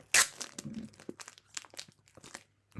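Opening a plastic-foil package of stickers gives a sharp tearing burst followed by scattered crinkles and light crunches of thin plastic, close and fairly quiet.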